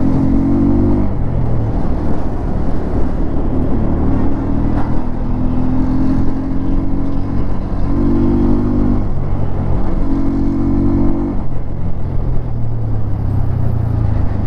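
A Bajaj Pulsar N125 motorcycle accelerates through its gears: a steady, close engine drone climbs in pitch, drops at each shift and climbs again, over constant wind rumble, with no talking.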